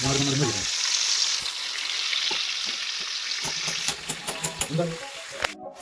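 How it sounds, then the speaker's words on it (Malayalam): Chicken frying in hot oil gives a dense, close crackling sizzle, joined near the end by a few sharp clinks and stirring clatters. "അപ്പോൾ എണ്ണ ചൂടായി, ചിക്കൻ വറുത്ത് തുടങ്ങാം."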